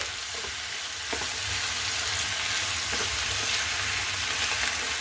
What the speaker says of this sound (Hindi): अब हम इसमें 1 टेबल स्पून अदरक लहसुन का पेस्ट ऐड करेंगे। साथ में इसे भी हम भून लेंगे।